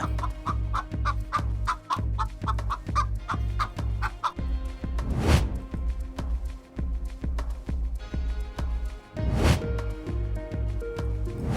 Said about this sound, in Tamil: சிலர் இந்த மாதிரி கோழிகளை கோயிலில் வாங்கி விட்டுருந்தாங்க